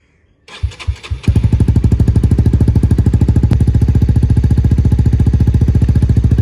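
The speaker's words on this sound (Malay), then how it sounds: "ini bunyi yang double valve ataupun valve yang dah terbuka" A Honda CBR1000R motorcycle engine with its exhaust valves held open cranks, sputters, then catches into a loud, deep, rapid idle with a steady pulsing exhaust rhythm close by.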